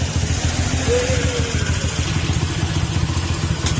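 A Honda TMX155 motorcycle engine runs steadily during a test, its close, even idle thumping continuous throughout with a faint whine passing briefly over it and no talking.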